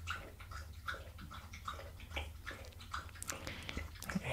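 A dog laps water from a bowl in a quiet barbershop setting, with soft, rhythmic wet slurps repeating close by at low volume.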